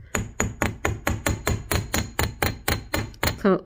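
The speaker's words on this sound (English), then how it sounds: "So it's more hammering on this side." Metal hammer striking a bead frame pendant on a hard surface, about thirteen sharp, evenly spaced ringing blows in a steady rhythm, close and fairly loud with no talking.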